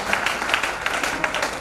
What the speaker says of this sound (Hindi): जोरदार ताली हो जाए लोगों के लिए।